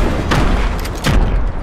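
Rocket explosions in Fortnite land as two or three short, loud booming bursts in quick succession, close and punchy, with no talk over them.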